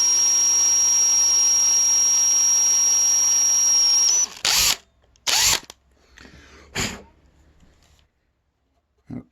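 Power drill boring into ukulele wood from a kit build, a steady continuous drilling whine for about four seconds, followed by several short separate bursts of drilling with quiet gaps between them.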